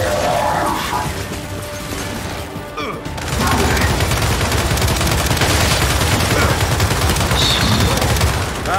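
Rapid turret gunfire rattles in the Gears 5 video game, dense loud bursts firing almost continuously after a short lull, with shouting faintly mixed in.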